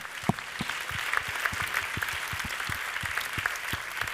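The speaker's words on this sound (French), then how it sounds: "On peut applaudir une dernière fois nos lauréats." An audience at a business awards ceremony applauds the prizewinners, producing dense, sustained clapping from a large crowd with a few distinct nearby claps standing out.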